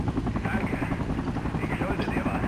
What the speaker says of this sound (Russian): Кто-то из наших на вертолете.